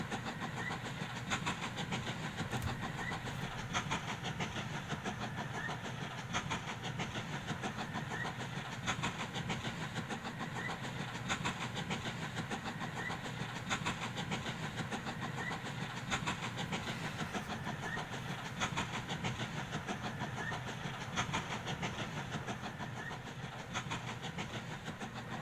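A train runs steadily around its track in the transport game Mashinky, a continuous rhythmic clatter and rumble at moderate volume that goes on unbroken.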